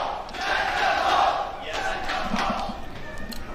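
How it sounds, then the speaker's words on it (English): A large esports crowd roars and cheers at a CS:GO match between Astralis and Team Liquid at iBUYPOWER Masters 2019, a loud sustained swell of voices that fades slightly, then surges again. "The crowd erupting at the chance of Liquid hoisting the first trophy of 2019 here"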